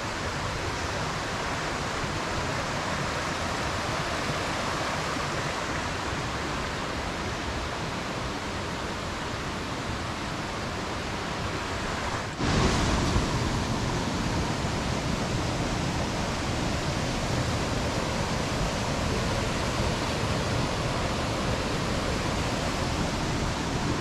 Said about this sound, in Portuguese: pra quem não conhece, aqui é a cachoeira